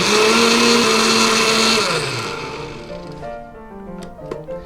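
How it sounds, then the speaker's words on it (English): A countertop blender whirring loudly as it blends almonds and chia seeds into almond milk, a strong steady motor roar that winds down after about two seconds, then coasts and rattles quietly to a stop, close up and alone. "a heaping tablespoon of almonds, and I've given it a blend"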